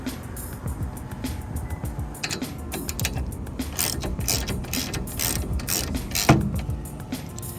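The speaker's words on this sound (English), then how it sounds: "so now I can tighten these 2 bolts down" Rapid ratchet clicking while bolts are tightened on a solar panel mount on a Promaster van roof, with steady metallic clicks and a few creaks and clanks, fairly close, with no talk.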